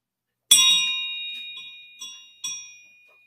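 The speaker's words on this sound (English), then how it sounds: "Bell?" A bell rings once with a bright, sharp ding that rings on and fades, followed by two softer strikes about half a second apart, close and clear in an otherwise quiet room.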